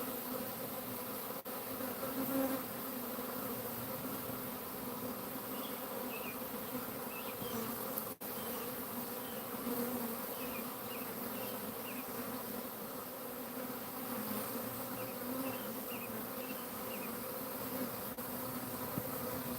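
A honeybee swarm buzzes around four hives outdoors, a steady, dense hum that continues evenly and fairly faint in the background.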